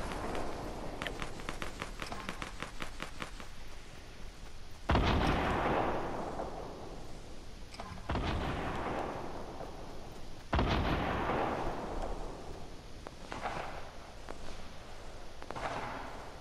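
Rapid minigun fire in Fortnite Battle Royale, a loud sustained burst of shots with heavy booming blasts recurring every few seconds, continuous and dense throughout.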